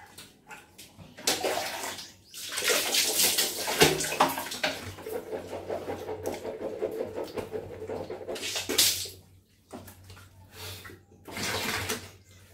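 Someone bathes at home in hot weather, pouring and splashing water in several surges separated by short pauses, close and moderately loud with no talk.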